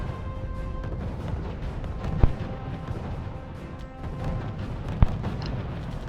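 Anti-tank guns firing at tanks in the RUSE strategy game, two sharp distant gun reports over a constant rumbling battle ambience, with no one talking.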